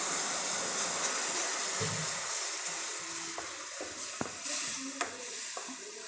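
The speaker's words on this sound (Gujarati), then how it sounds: "હવે આપણે એમાં નાખશું છાશ" Buttermilk hits roasted flour in a pan for a desi-style drumstick curry, giving a steady close sizzle with a few soft stirring clicks and taps toward the end.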